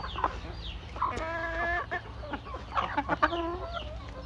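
Backyard chickens cluck nearby in short, irregular bursts, with a few drawn-out calls among the quicker clucks over a quiet background.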